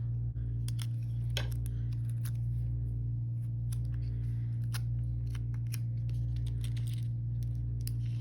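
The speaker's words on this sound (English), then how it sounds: "this little daisy, I'm going to go ahead and trim that off" Scissors snip through a paper daisy embellishment for a junk journal, giving a few crisp, close cuts and small paper rustles over a steady low electrical hum.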